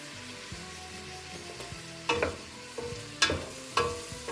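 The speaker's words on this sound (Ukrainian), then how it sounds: "Добре перемішую, щоб морквочка віддала свої фарби" Carrots and other vegetables are stirred in a frying pan: a steady sizzle runs underneath while a utensil scrapes through the food in several louder, uneven strokes. No one speaks.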